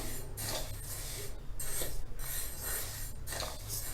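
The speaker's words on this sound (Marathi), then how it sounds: "लो टू मिडियम फ्लेमवर आपण तांदूळ भाजत आहोत" Rice is dry-roasted on low to medium flame in a large kadhai to make chakli bhajani. Soft, repeated scraping and rasping strokes sound as the grains are stirred, rising and falling in a steady rhythm, quiet and close with no talk.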